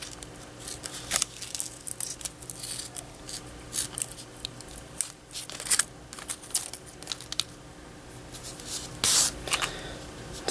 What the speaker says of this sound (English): my scissors fit really nicely right up against the marble. And it's super easy to cut out.